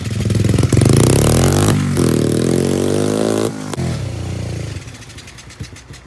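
A small $50 pit bike engine runs loud and rough close by, a throaty idle with a rattling revving burst, then settling and fading toward quieter sputtering.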